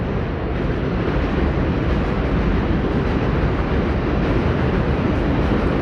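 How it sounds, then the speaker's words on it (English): A New York E or M subway train rumbles past below street level, producing a loud, dense, continuous roar that holds steady throughout with no breaks. "That sounds like the E or the M train below me."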